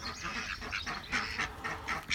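Tame pet ducks raised from ducklings quack and honk in a quick, overlapping string of loud, close calls, with no talking over them.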